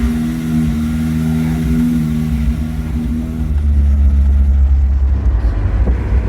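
A 1987 four-wheel-drive Toyota Tercel with a swapped 4A-C engine accelerating in first gear, a steady droning hum that shifts into a louder, lower rumble as it pulls away, heard from inside.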